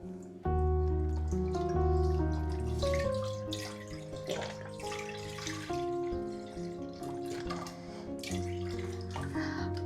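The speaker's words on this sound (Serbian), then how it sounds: "uzet ćemo 1 litru mlijeka koji ćemo sipati" Milk, about a litre, is poured from a container into a cooking pot while preparing a creamy cake. A steady liquid pour runs close and continuous under prominent background music.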